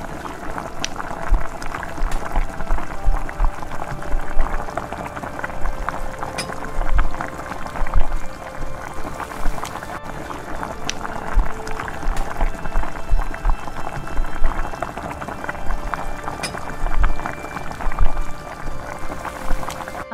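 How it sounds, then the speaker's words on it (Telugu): Mysore bondas deep-frying in hot oil over a high flame, a steady bubbling, crackling fizz that runs the whole time at a close, even level with small pops scattered through it. "బాగా ఆయిల్ హీట్ ఉన్నప్పుడు హై ఫ్లేమ్లో పెట్టుకొని బోండాలు వేయాలి"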